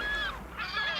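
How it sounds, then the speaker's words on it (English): Gray gulls scavenging a dead oceanic sunfish at sea give two harsh, drawn-out shrieking calls, fairly faint and distant, with no talk. "the birds of the sea gather in shrieking assembly and dive frantically beneath the surface"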